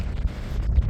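Wind buffeting on a Norfolk beach, a steady loud low rumble of gusts across the microphone with no voices.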